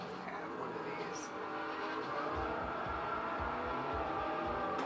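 A race car launches off the start line in Forza Motorsport 4, engine roaring up with a rising low rumble among other cars while someone talks over it.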